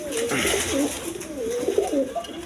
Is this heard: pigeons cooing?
yes